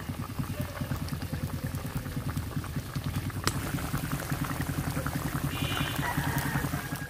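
Katla fish kaliya curry bubbling and simmering steadily in a pan, a dense continuous boil with crackling oil, close and fairly loud, with no talk.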